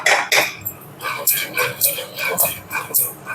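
A ladle scrapes and clacks rhythmically against a pan while palakova milk sweet is mixed with ghee, close and fairly loud, with soft whispery sounds between the strokes.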